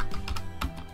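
Brief, rapid tapping on a computer keyboard while a title is typed into a Google Docs document, close and clear with no voices.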